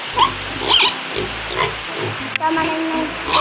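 Pigs grunting and snorting at close range on a farm during a family celebration, several short rough grunts spread across the moment with people talking alongside.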